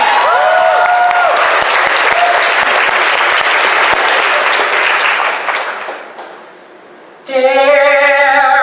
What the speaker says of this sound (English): This deserves a round of applause before it even starts.